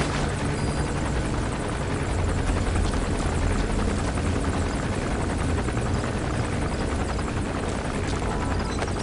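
Patrol helicopter in Metal Gear Solid V, a steady continuous rotor drone and engine buzz holding at constant loudness throughout.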